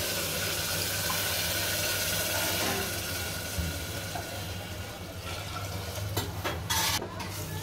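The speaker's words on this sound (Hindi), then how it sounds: "अब हम इसमें पानी डालेंगे" Water pours steadily into a metal pressure cooker with a hollow, rushing sound, ending in a few clinks of utensils against the vessel.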